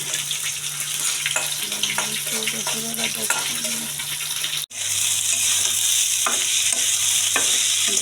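Green chilli, garlic and onion frying in oil for a greens dish, a steady close sizzle with occasional stirring scrapes that continues throughout, briefly cutting out midway then resuming just as strongly.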